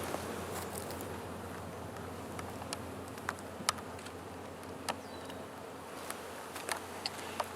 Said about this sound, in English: there are bees down there